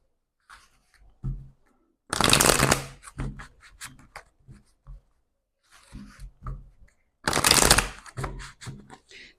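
Oracle cards being shuffled in two loud bursts of riffling, each a second or so long, with softer card handling, taps and clicks in between during a French-language card reading.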